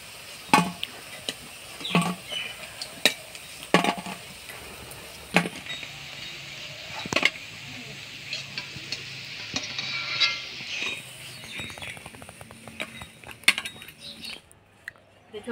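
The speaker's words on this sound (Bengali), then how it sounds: "ধনে পাতার বড়া ভাজা হয়ে গেছে, এবার তুলে নিব।" Coriander leaf fritters are lifted out of hot frying oil, with a soft sizzle underneath and sharp metallic clinks and scrapes of a utensil against the pan at irregular intervals, close by.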